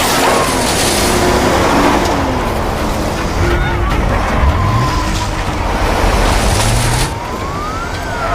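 A car speeds off in a getaway with a loud, rushing engine and road roar close by, while sirens wail and sweep under the noise throughout.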